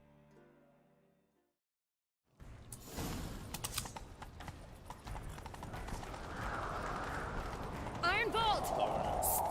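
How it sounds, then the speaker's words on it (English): The Witcher 3: Wild Hunt video game: after a brief quiet gap, rapid hoofbeats of a galloping horse clatter steadily and grow louder, with a whinny near the end. "Grab a horse, we'll chase him down."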